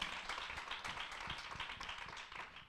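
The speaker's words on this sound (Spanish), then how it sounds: "Aplaude al Señor." A church congregation breaks into steady, dense applause, many hands clapping together at moderate distance for a few seconds without pause.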